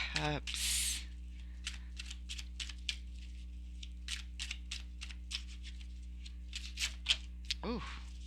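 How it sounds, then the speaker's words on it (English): Tarot cards being shuffled up close, a quick riffle burst near the start followed by a long run of soft, irregular flicks and taps, fairly quiet, with a brief voice near the end. "that was going to be the last shuffle."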